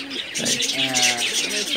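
Pigeons at a high-flying pigeon loft give soft, rolling coos close by, layered with brief chirps, while a person's voice is also heard.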